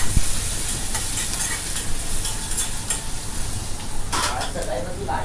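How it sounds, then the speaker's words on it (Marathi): Asafoetida, green chili and grated ginger sautéing in a pan, a loud continuous sizzle with spatula scrapes and light metal clinks, a louder burst of stirring near the end. "हे सगळं आता परतून घ्यायचं आहे।"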